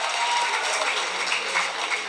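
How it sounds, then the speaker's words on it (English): Audience applause at a physiotherapy college farewell event, a steady wash of many hands clapping at close range, running the full length without a break. "So can we have a clap for them?"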